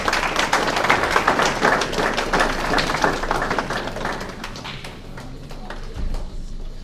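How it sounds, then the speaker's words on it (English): An audience at a college soccer showcase information session claps for a presenter, a dense, moderately loud patter of many hands that thins out and fades over the final seconds. "Round of applause."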